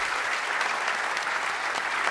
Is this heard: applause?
yes